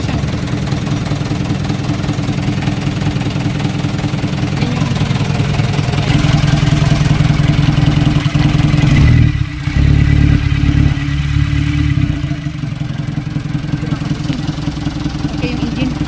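An Isuzu Elf truck engine idles loudly and close with a steady diesel clatter, then rises in a rev partway through before settling back, while people talk over it.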